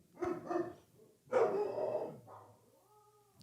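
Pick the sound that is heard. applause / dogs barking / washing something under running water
dogs barking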